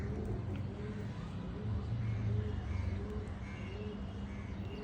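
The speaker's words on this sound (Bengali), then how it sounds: "চলে আসলাম আরও একটা রেয়ার কবুতর নিয়ে" A rare silver pigeon coos nearby, giving soft, repeated low calls in a loose rhythm over a steady background hum.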